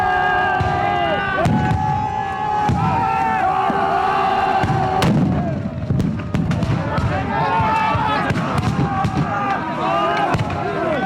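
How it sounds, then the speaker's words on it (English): Black powder guns are fired into the air during a mock battle between Moors and Christians, with repeated sharp bangs scattered throughout over a noisy crowd with cheering and whistles. "they fill their mixed powder guns and shoot constantly into the air"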